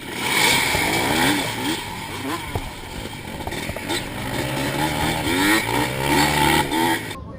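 A pack of 1985 Yamaha IT 200 two-stroke motorcycles in a post-vintage AHRMA cross-country race at Barber snarl and rev loudly at the start, engines rising and falling continuously close by, with no talk.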